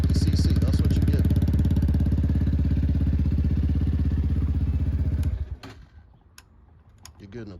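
A cheap 250cc Amazon motorcycle engine runs with a steady, buzzy, rattling putter close by for about five seconds, then cuts off, leaving faint clicks and handling noise.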